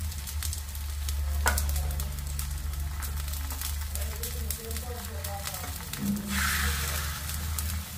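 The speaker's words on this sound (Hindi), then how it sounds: "तो ये बहुत जो है कम तेल में हम फ्राई करेंगे" Poi saag (Malabar spinach) leaf pakodi shallow-frying in a little oil, a constant close crackling sizzle with occasional spatula scrapes and stirring, steady and moderately loud.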